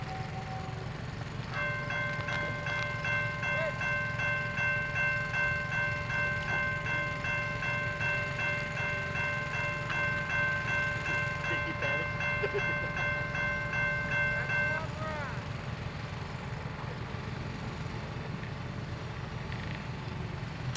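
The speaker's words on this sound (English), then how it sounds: "We interrupt this construction to bring you the regularly scheduled train." A CSX freight train rolls past a signal construction site with a continuous heavy rumble, while a long sustained tonal horn-like ringing holds for about thirteen seconds before cutting off.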